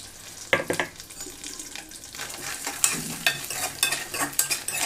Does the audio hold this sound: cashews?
yes